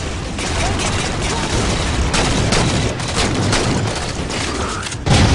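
Gunfire from Marines in Halo 4 Spartan Ops, a dense continuous fusillade of rapid shots and booms throughout, with voices talking over the battle.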